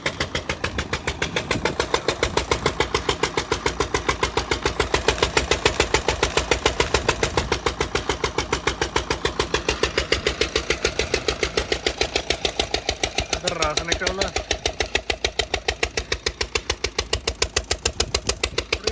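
A generator engine runs steadily at a village sugarcane crusher, its loud rhythmic thumping continuous throughout while a voice speaks briefly beneath it.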